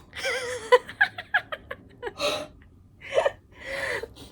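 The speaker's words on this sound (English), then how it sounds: "I was yawning and then you made me choke on my yawn." A person choking on a yawn, a strained drawn-out yawn broken by sharp catching gasps and a few short breathy hiccups, close and fairly loud, followed by a brief vocal sound.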